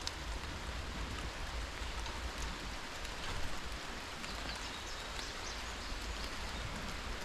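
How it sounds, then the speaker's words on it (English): Steady rain falls outdoors while carp fishing, a dense, even hiss of drops on surfaces that continues throughout with no talking. "It's raining"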